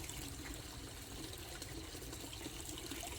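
A garden water feature at a summer antiques garden trickles and splashes steadily. The flow is faint and continuous and goes on with no voices.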